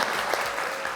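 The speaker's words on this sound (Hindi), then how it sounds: "तालियां।" A television talk show's studio audience claps in a brief, dense burst of applause.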